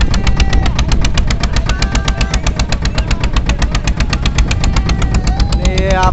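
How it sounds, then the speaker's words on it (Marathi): A motor boat engine runs on a Konkan coastal outing near Shrivardhan, with a loud, fast and steady chugging pulse close by and no voices. "आपण एक होडी घेतली आहे आणि एक पागार पण आहे आपला पाठी."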